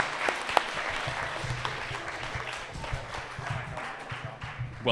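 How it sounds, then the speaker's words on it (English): A group watching a Taskmaster task breaks into applause, a steady moderate clapping that holds for several seconds, with some crowd voices mixed underneath. "Give him a round of applause"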